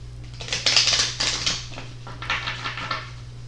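Crisp, rapid riffling and slapping of a deck of tarot cards being shuffled, in several quick bursts close by, with no talking.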